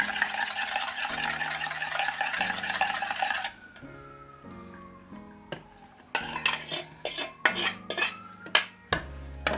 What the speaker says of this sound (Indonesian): Ini kita campurkan ke dalam campuran ragi tadi dan kita aduk ya.